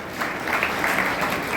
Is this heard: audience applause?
yes